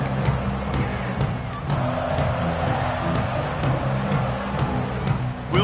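Stadium crowd at a football game roaring steadily through a punt return, a loud continuous wash of cheering with scattered shouts and no clear break.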